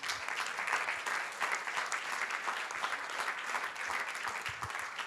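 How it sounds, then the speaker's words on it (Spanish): A church congregation claps together after a sermon on raising children, a continuous, fairly soft and even round of applause from many hands that fills the whole span without speech. "Un aplauso a la palabra de Dios."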